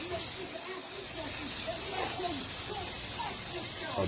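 Steak sizzling on a Blackstone griddle, a continuous broad hiss close by that holds steady throughout, with a voice talking faintly over it.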